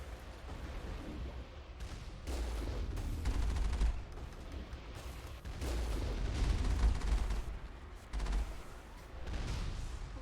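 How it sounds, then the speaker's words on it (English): Gunfire in the video game Mass Effect: bursts of rapid automatic shots and heavy booms come in waves, loud stretches broken by brief quieter gaps, continuing for the whole stretch. "Is somebody shooting at me?"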